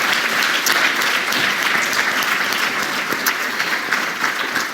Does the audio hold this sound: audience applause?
yes